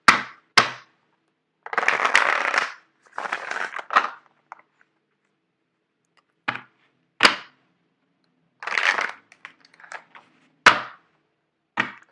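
Tarot cards are shuffled in short, separate bursts of crisp riffling and slapping, close and fairly loud, with silent pauses between the attempts.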